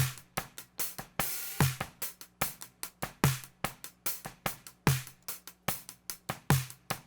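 Drum kit recording blending a smack microphone with heavy presence EQ, a close kick and snare groove with bright crashing cymbals, playing steady rhythmic hits with an explosive, airy top end.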